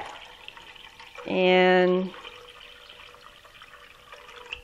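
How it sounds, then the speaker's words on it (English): Water is poured into a crock pot for caramel sauce in a home kitchen, giving a brief rising, resonant fill tone lasting under a second, with a voice speaking faintly before and after. "now I'm going to pour the water in"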